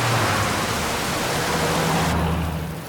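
Heavy rain pours as a dense, constant hiss with a low rumble underneath, loud and unbroken throughout, with no voices.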